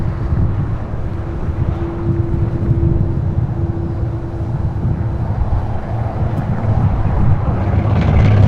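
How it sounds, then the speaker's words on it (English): A China Airlines Cargo Boeing 777 freighter arriving at LAX from Taipei gives a steady low rumble mixed with wind buffeting the microphone, building slightly toward the end. "is the China Airlines Cargo 777 freighter coming in from Taipei"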